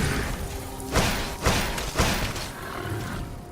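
Massive explosion in a video game: a sustained roaring rumble broken by three heavy booming thuds about half a second apart, loud and close, with no talking.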